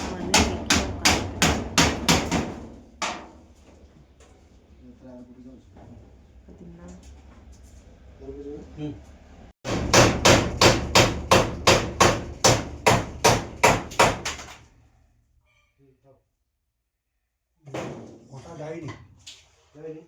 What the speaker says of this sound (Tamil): இப்போ வந்து அந்தாண்ட போய் தான் ஆணி அடிக்க